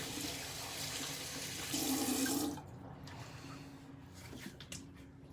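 Warm tap water runs in a steady rush into a sink for a couple of seconds, then shuts off, leaving faint drips and small clinks.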